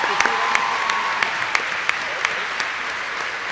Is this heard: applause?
yes